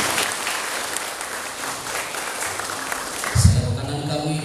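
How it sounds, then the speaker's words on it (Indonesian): Audience at a school motivational seminar for parents and students breaks into a short burst of clapping near the end, rising over a steady murmur of room noise. "Boleh tepuk tangan buat Ibu Dian kita hari ini."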